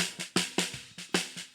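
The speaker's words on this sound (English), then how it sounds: "I also have a mic on the bottom of the snare drum that sounds like this." Solo track from a microphone under a snare drum in a rock mix: a steady, rapid pattern of hits with bright, hissy snare-wire rattle sustaining between strikes, loud and close.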